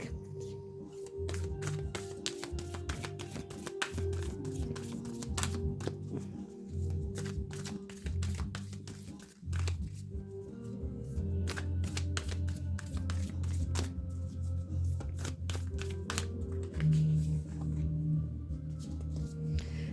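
A Moonology oracle card deck is shuffled by hand in repeated quick riffling bursts with soft taps and pauses, close and fairly quiet, over a low droning musical background.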